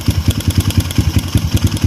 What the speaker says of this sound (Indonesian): jadi suara pada piston karbu PWK itu aku saya rasa pernya lemah, per pada karbu ini